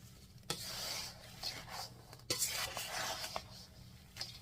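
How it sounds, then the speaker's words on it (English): A spoon stirs a thick icebox fruit cake mixture made with sweetened condensed milk in a bowl, giving soft rubbing and scraping strokes with a few sharper knocks against the side, close and fairly quiet, with no talking. "So I'm just kind of stirring this around."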